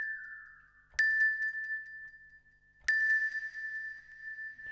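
Two bright glockenspiel notes from a Kontakt software instrument ring out about two seconds apart, each struck clearly and left to shimmer with a long reverb tail.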